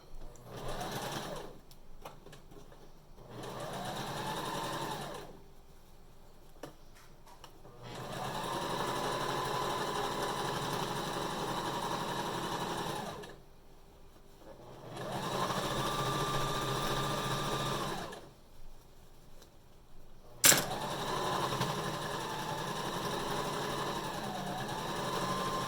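A sewing machine top-stitches across a fabric cover mask in several long bursts of steady whirring, separated by short quiet pauses, with one sharp click near the end.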